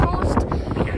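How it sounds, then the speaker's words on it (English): Strong wind buffets the microphone on an open railway platform at Carluke station on the West Coast Main Line, a steady low rumble that fills the whole moment without a break. "today we're at a very windy but sunny Carluke station"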